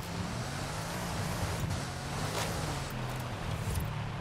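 Porsche 911 Carrera driving in Forza Horizon 5: a steady, fairly quiet engine drone with road noise that holds an even pitch while cruising, without talking.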